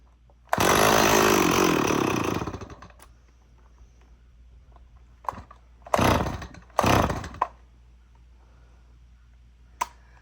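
A Stihl 026 chainsaw on half choke catches with a loud, sputtering roar for about two seconds and then dies. After a quiet gap come several short, rasping pull-cord tugs, close by, with no talking.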